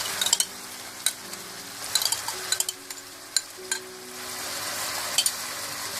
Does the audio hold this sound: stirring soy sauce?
yes